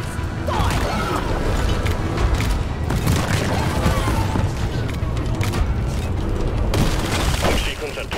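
Deep Rock Galactic gunfire at swarming bugs: loud, sustained shooting with booms and crashing impacts, shouted voices over the din.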